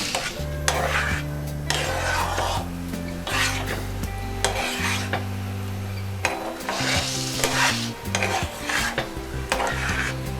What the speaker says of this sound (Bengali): আবার একটু নাড়িয়ে দিচ্ছি।